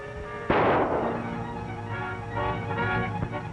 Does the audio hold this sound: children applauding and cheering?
no